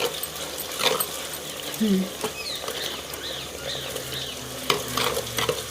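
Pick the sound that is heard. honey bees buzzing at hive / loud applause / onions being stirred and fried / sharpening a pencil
onions being stirred and fried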